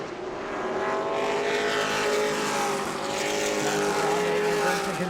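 Pro late model stock cars race at New Smyrna, engines roaring loud and close as the pack passes, the pitch rising and swelling in a continuous, droning blur.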